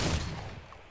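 A gold AK rifle in Fortnite season 7 fires a single loud, close shot that decays quickly, with no talking.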